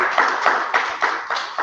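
Enthusiastic clapping for the youngest child, a boy praised for never missing class, with rhythmic bursts of hand claps repeating every quarter second or so, close and steady throughout.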